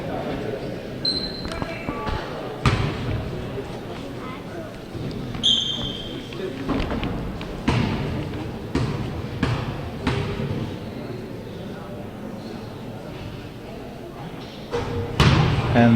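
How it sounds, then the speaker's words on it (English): A basketball thumps and bounces on a gym floor during a JV boys high school game, with sharp slams and thuds against the rim, while a commentator talks over the play. "the boys are a little light on their free throws today here, just barely hitting the rim here, Calvin"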